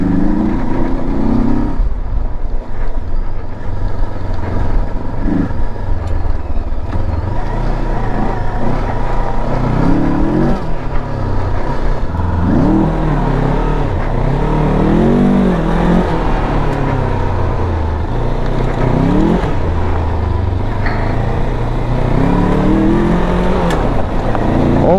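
Rieju Aventura 500 motorcycle riding off-road over gravel and stony tracks, its engine droning loudly and steadily with rising and falling revs throughout, heavy wind rumble underneath, no talking.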